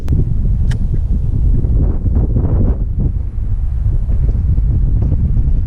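Strong wind blows across a lake during kayak fishing, roaring and buffeting the microphone with loud low rumbles and gusts, no voices.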